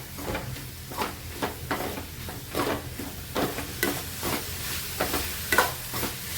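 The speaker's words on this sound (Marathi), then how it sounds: "लाल तिखट घालून घेणार आहे," Masala for dried shrimp is sautéed with red chilli powder in a pan, a steady sizzle broken by regular scraping strokes of a spatula, close and without talk.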